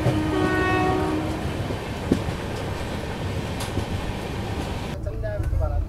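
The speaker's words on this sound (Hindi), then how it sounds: "क्योंकि हमारी ट्रेन मेन लाइन पे थी तो यहीं से स्पीड पकड़ लेंगे।" A Nizamuddin TVC Express passenger train picks up speed on the main line, its horn sounding briefly at the start over a heavy rolling rumble and rail clatter heard from on board, with talking mixed in.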